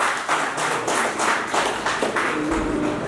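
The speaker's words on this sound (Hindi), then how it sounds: "सारे मिलकर जोरदार ताली।" An audience at a Hindi poetry gathering breaks into loud, sustained clapping that swells in pulses, with a steady rhythmic beat running through the crowd.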